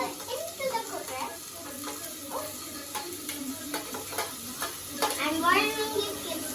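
Ingredients tipped into a hot cooker sizzle and spit steadily, with stirring clinks and scrapes of a utensil against the pot over the continuous frying hiss.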